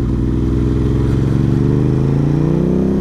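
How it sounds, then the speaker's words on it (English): A Ducati motorcycle engine braking on the road, its engine note close and loud, with a steady throbbing pulse whose pitch slides gradually as the bike slows. "Engine braking is immense."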